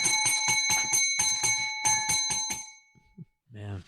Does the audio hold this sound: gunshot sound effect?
no